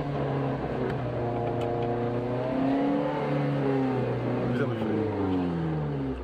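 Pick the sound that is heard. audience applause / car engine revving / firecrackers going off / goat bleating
car engine revving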